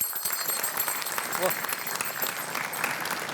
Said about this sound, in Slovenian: En aplavz za Božička.